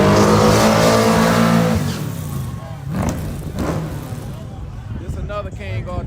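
A King R-tune drag car roars loudly down the strip at a Street Outlaw prep run-what-you-brung drag racing event, and the sound fades within about two seconds, leaving softer crowd noise and scattered voices.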